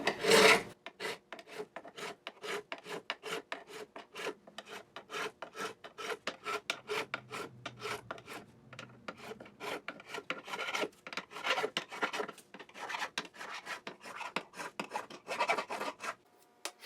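Hand files scrape back and forth across metal in a fast, steady rhythm of short rasping strokes, close and clear with no talking.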